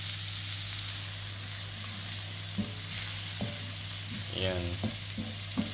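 Fish sizzles steadily while frying in a pan for ginataang isda, a continuous crackle with a few clinks of utensil stirring over a low background hum; one brief word is spoken.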